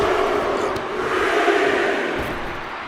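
Arena crowd roaring and cheering during a Bronson Reed versus Roman Reigns match in the WWE 2K25 video game, a dense, steady wash of many voices with no single voice standing out.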